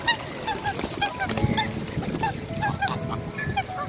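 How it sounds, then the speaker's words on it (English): Geese honk again and again at a park boating lake, clear and fairly close, over a steady outdoor bustle of wind and distant activity. "Oh, look, and the geese are coming."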